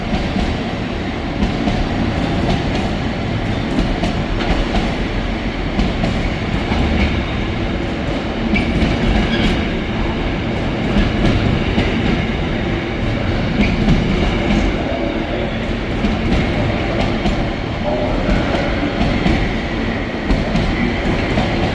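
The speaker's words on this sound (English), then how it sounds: "88006 Juno with 4S43, 4 Sierra 43 from Daventry to Coatbridge with a Tesco Intermodal service" Class 88 locomotive 88006 Juno hauling a Tesco intermodal freight train from Daventry to Coatbridge at Carlisle, a loud, sustained rumble with rhythmic wheel clatter over rail joints as the long train of wagons passes close by.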